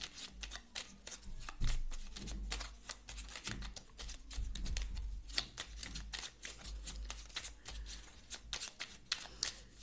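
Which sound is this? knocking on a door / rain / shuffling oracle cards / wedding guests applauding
shuffling oracle cards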